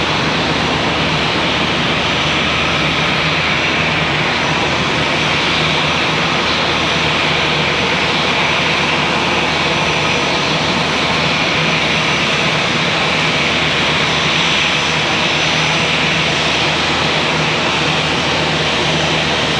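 A passenger airplane taxis toward the gate at Charlotte Douglas International Airport, its engines giving a steady, loud broadband roar that holds level throughout with no break.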